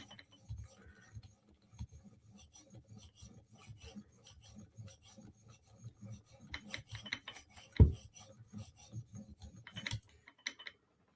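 A Chris Reeve Sebenza Tanto knife edge is polished to a mirror finish with quiet, uneven rasping strokes, soft and close, including one sharper scrape partway through.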